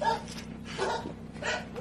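A bear growls inside a garage in Ust-Kut, Irkutsk region, giving a few low, rumbling bursts that rise and fade, fairly faint and at some distance.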